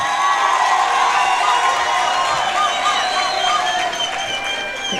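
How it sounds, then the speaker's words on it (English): A youth entrepreneurship event crowd in Mafikeng erupts in cheering and whooping mixed with clapping, loud and close, with high shouted voices and squeals riding over the general crowd noise. "Please give them a round of applause"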